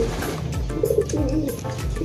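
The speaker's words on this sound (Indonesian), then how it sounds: "Merpati yang giring ini banyak banget." Giring pigeons, several of them, coo in overlapping low rolling calls, close and steady over faint background noise.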